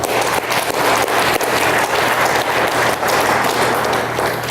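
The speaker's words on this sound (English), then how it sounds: "Another round of applause to honor her." Sustained applause fills a school board meeting room as a district employee is honored for quickly helping a student, a dense steady clapping from the audience lasting several seconds with no voices over it.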